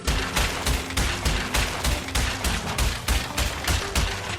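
An explosion blasts a rock wall apart, sending large chunks crashing down: a dense run of loud, rapid booming impacts that repeat roughly every half second throughout, with no talking.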